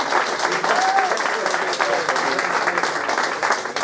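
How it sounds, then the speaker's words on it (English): A crowd at a Mansfield legends quiz night applauds, thick clapping carrying throughout as a voice talks briefly over the start. "Everybody give Richie Barker a round of applause"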